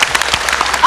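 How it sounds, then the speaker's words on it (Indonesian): A short burst of applause at an International Day of Persons with Disabilities event, scattered hand claps from a group, with a voice briefly rising at the end. "Ya, kita beri tepuk tangan."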